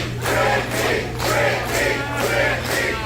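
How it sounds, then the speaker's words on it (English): A wrestling crowd in Phoenix, Arizona chanting in rhythm for Brooks, loud rising and falling waves of voices repeating about every half second, with no separate talk over them. "Crowd getting behind Brooks here in Phoenix,"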